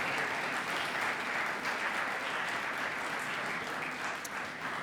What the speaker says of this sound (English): So can we have a massive round of applause for the 2018 officer election candidates and their campaigning teams for all the effort put in this week.